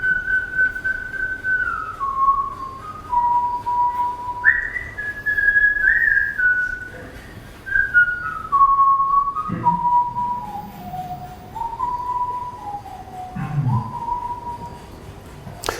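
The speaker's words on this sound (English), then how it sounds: "So the first thing you'll notice is that there isn't actually any words. It's whistling." A whistled Icaro, an Amazonian ayahuasca healing song, carried as a slow wandering melody of clear pure notes that step down and rise again, loud and close with soft rustles and breaths between phrases.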